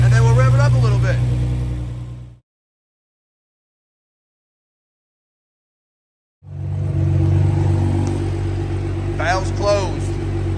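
Twin-turbo 4.1L V6 in a Nissan GT-R, breathing through a 4-inch valved exhaust, revs loudly and close, cuts to silence for several seconds, then returns with a rumbling idle and a rising blip.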